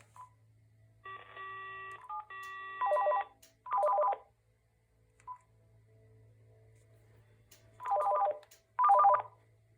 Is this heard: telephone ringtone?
yes